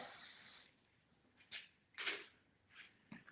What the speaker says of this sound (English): I'm going to take my session spray and liberally spray it on right out to about here.